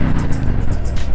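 A Harley Street Glide motorcycle engine rumbling steadily and loudly up close while riding on a backroad, a dense continuous low drone with no voices.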